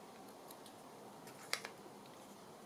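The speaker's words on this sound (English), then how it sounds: "I'm going to snip the corners on this." Scissors snip the corners off a paper ephemera piece for a boho journal, producing a couple of faint, quick close clicks against quiet room tone.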